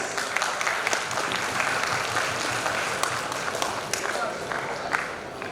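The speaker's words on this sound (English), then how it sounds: "Give a round of applause for the winners" Crowd at a college Texcellence awards event applauds the prize winners, continuous clapping and cheering at moderate volume, with voices mixed in.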